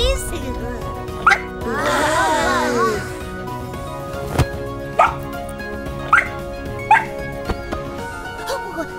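A cartoon dog gives several short, sharp yips and barks spaced a second or so apart, following a longer whining sound, with a steady tonal background.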